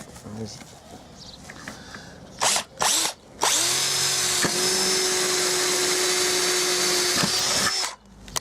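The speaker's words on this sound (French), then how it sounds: "Ok, donc là maintenant on va percer le trou." Power drill boring a hole into a bioclimatic pergola post, preceded by a couple of brief bursts, then a loud, steady whine held for several seconds close by before stopping, with someone speaking around it.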